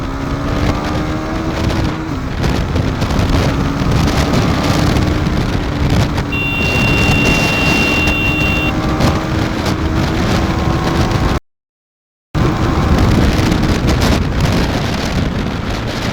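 A KTM Duke 390 motorcycle with a white smoke issue runs at top speed in fourth gear. A slowly rising engine whine sits under loud wind buffeting, with a short dropout near the end.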